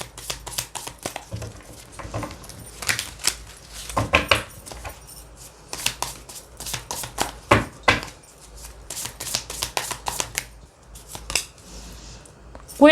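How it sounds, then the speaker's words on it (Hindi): A deck of tarot cards is shuffled close up, with repeated quick riffling bursts and crisp flapping snaps in irregular clusters, and no talk. "ओके, मैंने कार्ड्स उल्टे पकड़े, मैं दोबारा शफल करूंगी।"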